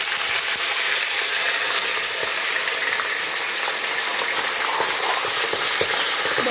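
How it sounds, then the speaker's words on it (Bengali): Green peas with whole cumin seeds fry in hot ghee in a pan, a loud continuous sizzle broken by scattered sharp pops and crackles, with no talking. "কড়াইশুঁটিগুলো ফাটছে"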